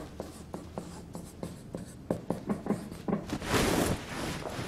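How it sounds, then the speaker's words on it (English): Notes written by hand with a pen or marker, a close series of short scratchy strokes in an uneven rhythm, ending in a longer rubbing stroke. "Let's write that down."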